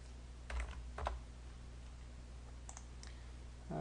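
Computer keyboard keys pressed for a shortcut in Excel 2010: a few soft, close clicks in two quick pairs, quiet against a faint steady hum.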